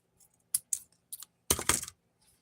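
Scissors cutting the folded end of a solid-color ribbon for a medium-sized gift bow, a few close, crisp snips followed by a longer burst of rustling cuts, no talking.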